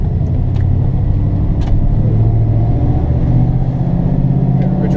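A 1972 Ford Ranchero GT on new BFG TA tires drives a quick lap, with a loud, steady, close engine rumble and a low drone that holds throughout.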